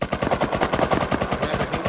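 MP5 gunfire in the video game Rust, a rapid sustained burst of loud, evenly spaced shots firing in quick succession with no talk over it.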